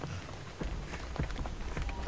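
Quick running footsteps of a survivor in the horror video game Dead by Daylight, a steady patter of soft thuds over a low ambient background, with no speech.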